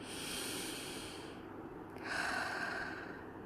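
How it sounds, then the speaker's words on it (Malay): A person draws a deep breath, a soft airy inhale followed by a slightly louder, rushing exhale, close and quiet with no talking. "tarik nafas dalam-dalam"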